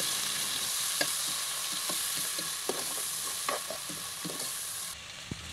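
Spices, bay leaves, cinnamon and a blended paste of onion, ginger and garlic fry in a pan for chicken biryani, a steady close sizzle broken by a string of short scraping stirs, with no voices.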